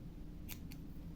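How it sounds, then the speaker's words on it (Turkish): Two quick snips of scissors cut leftover yarn on crocheted fingerless gloves, crisp and close over a low steady background hum. "Esnettikten sonra dışarıda kalan ipi kesiyorum."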